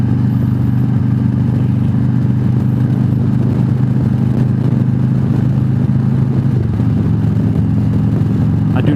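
A Freewheeler motorcycle trike takes a 35 mph curve at about 60 mph, its engine droning loud and steady close up under heavy wind rush, the pitch shifting slightly near the end.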